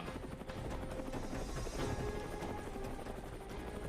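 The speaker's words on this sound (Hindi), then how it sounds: "हेलीकॉप्टर स्टैच्यू ऑफ लिबर्टी पर आसमान से नजर रख रहा था" Helicopter flying above the Statue of Liberty, a steady rhythmic rotor chop heard at moderate distance with a continuous engine whine underneath, faint overall.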